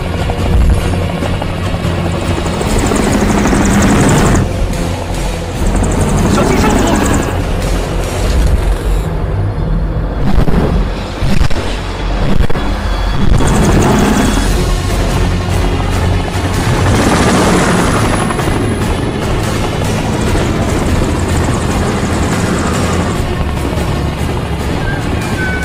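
A helicopter in a film's mudslide rescue scene fights strong airflow, its loud rotor thudding and engine roar continuous and close, with brief swells and dips.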